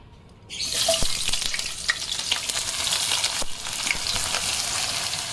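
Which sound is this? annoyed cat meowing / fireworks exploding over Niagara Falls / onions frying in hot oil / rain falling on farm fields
onions frying in hot oil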